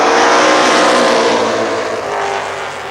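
Super late model stock cars roar down the straightaway at Columbus Motor Speedway in a loud, sustained engine blare that fades slightly as the pack passes.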